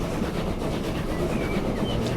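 A train pulls away in Transport Fever 2 on the line from Verney Junction to Aylesbury, a steady rolling rumble with faint clickety-clack of wheels over rail joints, continuous and fairly close, with no voices.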